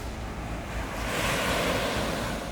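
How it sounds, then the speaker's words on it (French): Sea waves breaking steadily on a Guadeloupe coastline beside littoral forest, a continuous loud wash of surf swelling slightly midway, with wind noise and no voices. "Inlassablement, la mer se rue sur le rivage."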